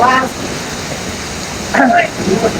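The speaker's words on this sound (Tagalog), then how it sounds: "Sobrang lakas ng ulan dito." A steady broadband hiss of heavy rain fills the background while a person talks loudly over it in short bursts.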